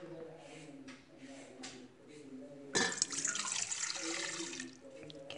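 Milk pours into a bowl of sugar, yeast and egg for rose-shaped bread dough, a close splashing, gurgling stream that starts abruptly midway and runs for a few seconds, with someone talking before and over it.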